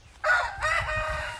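Shamo and Aseel chickens, young hens, give a loud close crowing call, about a second long, standing alone.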